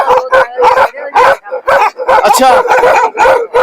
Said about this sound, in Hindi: देखिए कुत्ते कितने खतरनाक हैं, ये बहुत खतरनाक नस्ल है